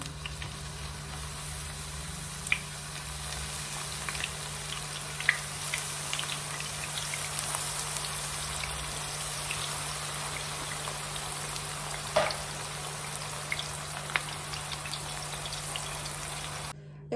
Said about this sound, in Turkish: Hemen geri kalan patlıcanlarını da sırasıyla kızartalım.